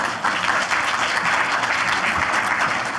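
Audience applause welcoming a speaker onto the stage at an agricultural conference session, steady dense clapping from a crowd filling the whole stretch, with no talk.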